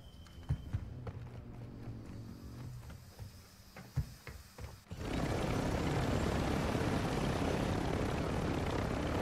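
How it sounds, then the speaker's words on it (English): Helicopter in Warzone 2 gameplay: after several seconds of scattered footsteps and thuds, a loud, steady rotor roar abruptly swells in and holds, as if the chopper is passing close overhead. "spotting a chopper"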